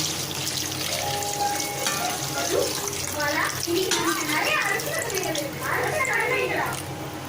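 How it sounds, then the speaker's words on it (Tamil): Water poured into a simmering prawn curry in a pan, a steady close splashing and trickling throughout, with a voice talking over it. "இப்போ நம்ம தேவைக்கான தண்ணி ஆட் பண்ணிக்கலாம்"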